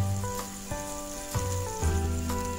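Chopped onions, green chillies and garlic fry in oil in a kadai for crispy gobi manchurian, giving a steady, soft sizzle beneath tonal background music.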